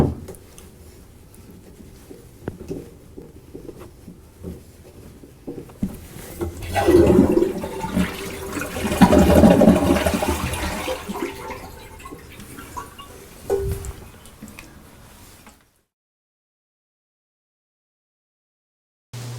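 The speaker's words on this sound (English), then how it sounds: "you flush the toilet and you get all the water out of there" A toilet flushes close by, a rising rush of water that swells, gurgles and drains away, then drops to silence.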